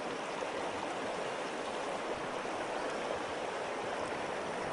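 Water from a small Colorado mountain stream rushes in a steady, close, continuous wash with no other sounds on top.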